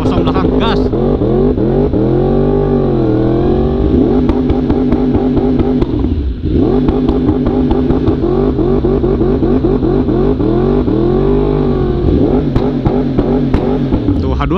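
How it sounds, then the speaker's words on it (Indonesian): A Kawasaki H2 motorcycle engine revs hard and close, its loud roar sweeping up and down in repeated surges with a brief dip in the middle. "Tuh H2 kayak gitu suaranya."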